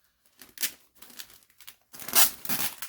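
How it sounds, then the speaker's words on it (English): Bursts of crackling, ripping noise as a long strip is pulled from a new roll of tape in a few stages, then a louder, longer rip near the end; close and alone. "Hence why I'm starting a new roll of tape."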